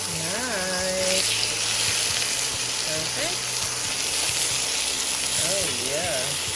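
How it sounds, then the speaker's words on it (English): Pork chops fry in a pan with a steady, close broadband sizzle that runs throughout, while someone talks over it. "we can fry it for another minute on that side"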